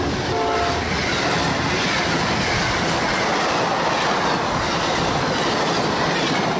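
Amtrak 92 passenger train passes northbound at a CSX signal after its Tampa stop, a loud, continuous close roar of wheels and rail clatter filling the whole span, with a brief horn-like tone near the start.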